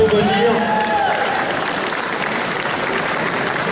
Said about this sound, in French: il faut vraiment aussi les applaudir parce qu'ils sont très timides